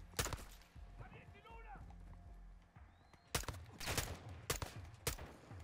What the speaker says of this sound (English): I shot you three times